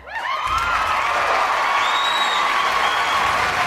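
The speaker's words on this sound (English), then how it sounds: "Let me clap it up for all of y'all." A crowd claps and cheers, with high whoops and shouted calls riding over sustained, loud applause from start to finish.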